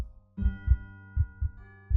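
Heartbeat sound effect: deep, muffled thumps in a steady slow pulse, paired beats repeating over a low hum, alone with no voices, set in an eerie empty school restroom at sunset.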